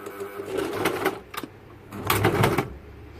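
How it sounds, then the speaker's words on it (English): A sewing machine back stitching on a shirt runs in short close bursts of mechanical whirring and clatter, pausing between passes. "Let me back stitch."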